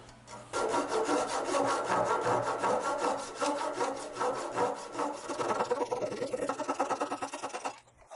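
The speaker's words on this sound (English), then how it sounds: "We're gonna trim them off with a Japanese style trim saw." A Japanese-style trim saw cuts off glued-in wooden inserts with steady rapid back-and-forth rasping strokes, close and continuous for several seconds before stopping.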